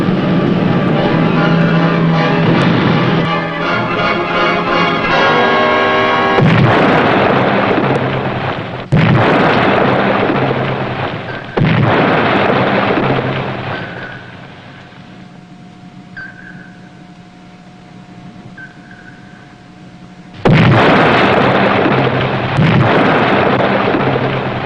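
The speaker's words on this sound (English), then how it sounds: "Rig for depth charge attack." Depth charge explosions rock a submarine under attack, several heavy, booming blasts spaced a few seconds apart over a rumbling background, with a faint sonar-like tone between the bursts.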